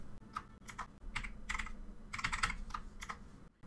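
Fingers tap out a short run of keystrokes on a computer keyboard, with crisp clicks in irregular clusters, close and fairly quiet, with no voice.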